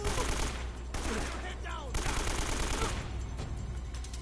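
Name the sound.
gunfire from an AK rifle in the video game Uncharted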